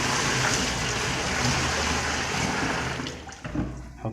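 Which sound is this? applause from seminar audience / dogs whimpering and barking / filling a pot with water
filling a pot with water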